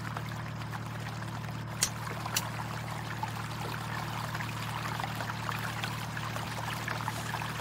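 Boat propeller churning water in Ultimate Fishing Simulator 2, a steady low motor drone under continuous rushing, pouring water with a couple of brief clicks, no talk.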